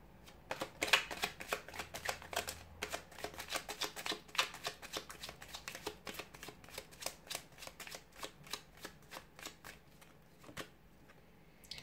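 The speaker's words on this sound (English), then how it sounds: "give the cards a shuffle" Tarot cards are shuffled repeatedly in quick, crisp riffling bursts, close and fairly quiet, with no talking.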